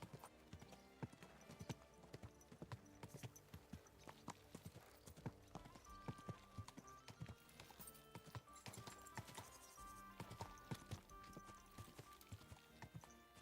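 Horse hooves clip-clopping in the medieval video game Peasant Simulator, a steady rhythmic run of hoof beats under game music and sounds, with a brief whinny-like call.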